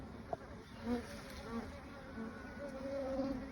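Honey bees buzz steadily around a backyard beehive during a hive inspection, a soft continuous hum with faint wingbeat tones drifting near and far, no talking.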